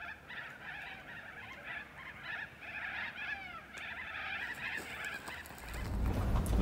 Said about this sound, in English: We've got a million corellas down that way somewhere making a whole lot of noise